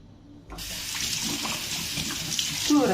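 Kitchen tap switched on to clean a utensil while making a yogurt cake, water gushing steadily from about half a second in, a light clink near the end.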